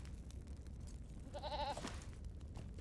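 A goat mount in Lord of the Rings Online gives a short wavering bleat, a single quavering call over a steady low background rumble.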